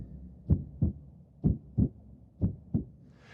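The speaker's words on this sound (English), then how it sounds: "Our first sensation of pulse, of course, was that of our mother's heartbeat in the womb" A mother's heartbeat in the womb thumps low and muffled in steady paired beats, three lub-dub pairs at an even pace, close and alone with no voices.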